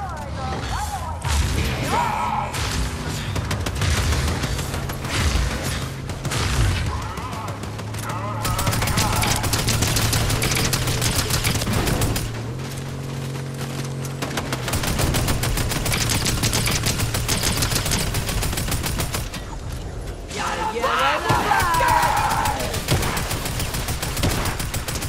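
Sustained automatic gunfire in the video game Fortnite, loud and continuous for most of the stretch with short gaps, mixed with game effects and occasional background talk.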